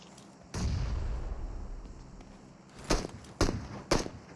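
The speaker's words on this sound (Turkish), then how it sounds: "Sana bir tane güzel bir bomba." A grenade blast in the mobile battle-royale game PUBG Mobile lands as a deep, rumbling burst, followed later by three sharp, evenly spaced bangs, with no voices.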